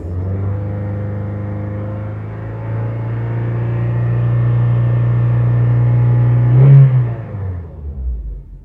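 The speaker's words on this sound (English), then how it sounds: "Give the engine a few revs as well while you're at it." A used car's engine hums, then climbs steadily in pitch and loudness as it revs, peaking sharply before dropping back to a low idle.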